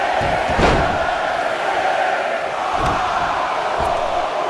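A dense roar of arena crowd cheering in the video game WWE 2K19 fills the space continuously, loud and steady, with a couple of sharp impacts cutting through.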